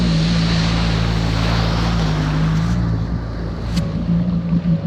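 A 2006 Yamaha WaveRunner VX110 personal watercraft cruising slowly on open water, a loud steady low engine drone mixed with wind and splashing water, continuous throughout.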